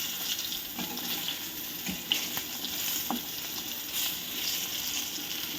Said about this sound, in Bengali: এবার মাছগুলোকে আমি ভালো করে ভেজে নেব।